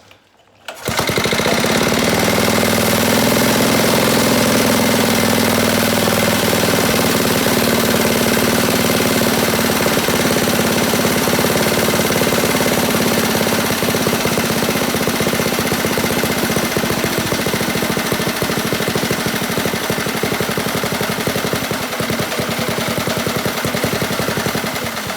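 A go kart engine that balks at throttle runs continuously, a loud rattling drone with rough, uneven revving and idling, close by and alone after a brief start.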